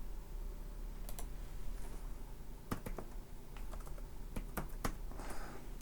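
Typing on a computer keyboard: quiet, irregular bursts of close, crisp key clicks with a few louder taps over a faint room hum.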